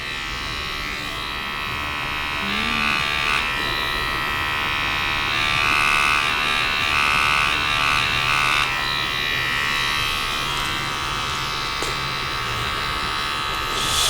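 A tattoo machine fitted with a 5 liner needle buzzes loudly and steadily up close while outlining a rose, with slight shifts in pitch as it works and no talking.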